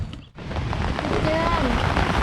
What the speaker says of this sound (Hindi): यहाँ पर देखें बारिश शुरू हो गई है बोगोर में